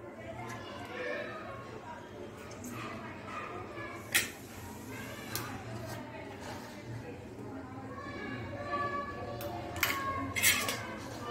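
Spring onion greens and squeezed lemon juice are mixed into a salad in a bowl, giving soft rustling with a few sharp utensil clinks, under a steady background hum.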